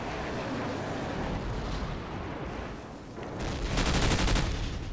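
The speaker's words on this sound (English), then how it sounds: "Nice submachine gun power." AK74U submachine gun fire in Call of Duty 4, dense rapid bursts of game gunfire over a busy battle din, loudest near the end.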